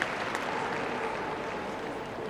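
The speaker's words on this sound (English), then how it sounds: "A warm round of applause." An audience at the Crufts dog show gives a warm round of applause during the working group final lineup, a steady wash of clapping from a large hall, moderately loud and unbroken.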